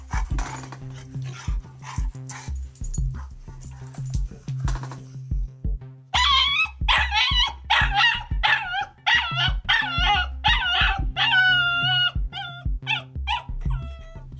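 Two playful puppies, one nearly seven years old, bark and yip at each other, quiet at first, then a burst of loud, rapid, high yelps and howl-like whines that continues to the end.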